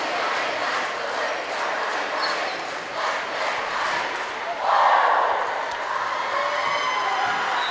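Wausau East fans cheer from the stands at a high school volleyball match between Wausau East and Wausau West, a steady crowd roar with a louder swell midway through.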